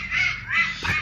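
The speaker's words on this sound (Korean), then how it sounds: "또 하나의 날카로운 소리는 올빼미의 울음" A tawny owl gives sharp, shrill, rasping calls, about three in quick succession, close and clear with no talking.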